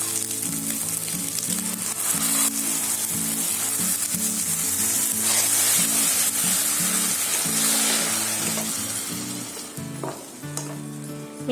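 Tomato paste sizzling and frying with onions in a pan over a lowered gas flame, a steady close crackle with occasional stirring scrapes throughout, fading slightly at the end.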